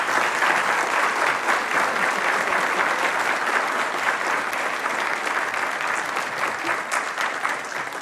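An audience applauds steadily at a spring town meeting as the president, Dr. Shirley Ann Jackson, is welcomed to the podium; dense, sustained clapping fills the room without pause.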